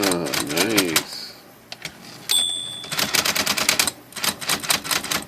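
A Smith Corona electric typewriter being repaired, its power backspace clutch just fixed, clacking through a burst of rapid mechanical strikes and whirring, then pausing before another loud run of repeated close, sharp key and carriage clicks.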